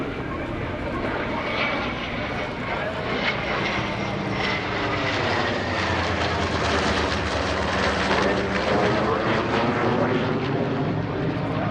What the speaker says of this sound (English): as the Corsair and the Rhino approach for the legacy break